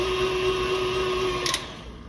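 Electric mixer whirring steadily through pound cake batter with milk, a close, constant motor hum that cuts off near the end with a short clatter.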